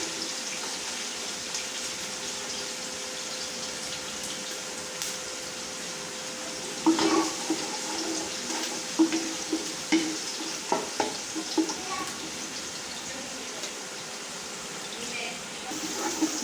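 Onions being fried and stirred in a pan until lightly pink for curry pakora, a steady soft sizzle with a run of sharper scrapes and clinks of the spoon in the middle, no talk.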